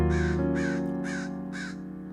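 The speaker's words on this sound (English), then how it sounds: "I got 2 crows perched right above me." Crows perched overhead give four loud, evenly spaced caws close by, ringing over a sustained musical chord.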